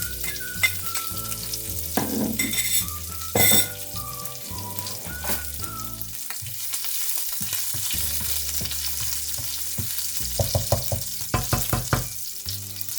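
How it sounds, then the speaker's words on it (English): Fresh chili, garlic and basil sizzle in olive oil with a crackling hiss and occasional stirring clatter, set against soft tonal background music; no talking. "And now we'll add some fresh chili, garlic and basil to the oil as well."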